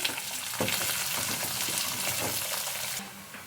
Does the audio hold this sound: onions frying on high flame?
yes